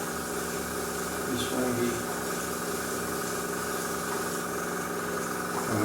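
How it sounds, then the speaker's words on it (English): An air compressor feeding an airbrush hums steadily and continuously while a model locomotive is weathered, a constant mechanical drone with someone speaking briefly over it. "There's a compressor."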